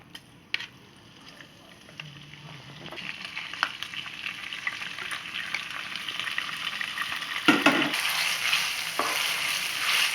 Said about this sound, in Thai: เราเอาไก่ที่เราหั่นเป็นชิ้นๆลงไปเลย